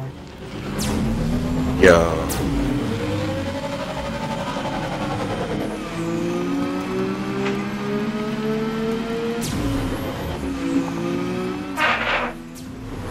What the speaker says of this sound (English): This engine, I like how it sounds.